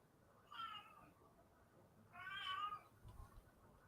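A pet cat meows twice, the second call longer and drawn out, close but fairly quiet against a low background hum.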